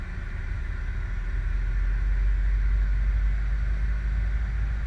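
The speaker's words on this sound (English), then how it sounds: "You can audibly hear the engine spooling." Jet engine of a CRJ700 spooling up in a flight simulator, a steady low rumble with a constant whining tone, droning evenly throughout.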